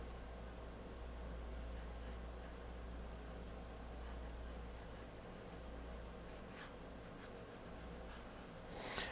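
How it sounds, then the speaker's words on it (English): Fine scratchy scribbling of an extra fine nib fountain pen moving quickly across paper, a steady close rasp throughout with a brief louder swish at the end. "Also has a lovely scriving noise."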